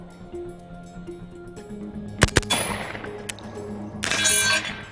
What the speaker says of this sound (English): Now one pull on the trigger fires 2 bullets.